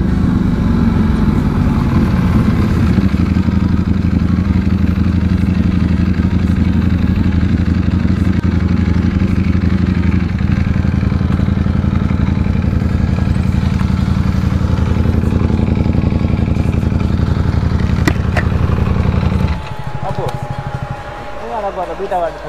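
Sport motorcycles, a Ducati and a BMW S1000RR M Sport, ride together as a group in West Bengal, producing a loud, steady engine drone with wind rush that drops off sharply near the end.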